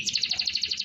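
A German Harz Roller canary sings a quick rolling trill, a rapid run of about a dozen evenly spaced high notes, clear and close, ending abruptly.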